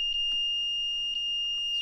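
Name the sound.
Arduino alarm clock alarm going off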